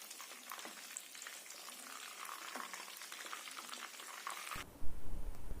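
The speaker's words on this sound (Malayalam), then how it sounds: "ഇതുപോലെ തിരിച്ചും മറിച്ചും ഇട്ട് കൊടുത്ത് 2 സൈഡും ഫ്രൈ ആക്കി എടുക്കണം" Chicken 65 pieces deep frying in hot oil give a steady, soft crackling sizzle throughout, with a louder clatter near the end as the pieces are turned.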